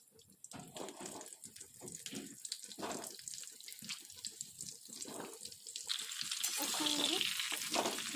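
Dried raw mango pieces for a sweet-sour mango pickle sizzle and crackle in a pan, close and fairly quiet. A utensil stirs intermittently, and the frying grows to a steady hiss toward the end.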